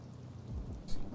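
Thunder rumbles through a rainy storm in the video game Detroit: Become Human, a brief low boom rolling over steady rain for about a second.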